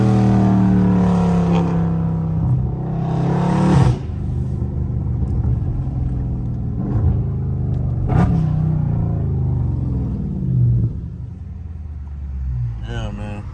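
A Dodge Challenger or Charger Scat Pack V8 driven hard in traffic rumbles loud and close, with repeated surges of revving and upshifts as it accelerates, and no one speaking over the engine.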